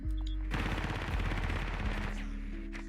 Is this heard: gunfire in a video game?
yes